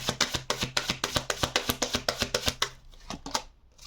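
Oracle tarot cards are shuffled by hand in a quick, even run of about fifteen crisp slapping riffles, close and clear, then a few slower, softer taps trailing off.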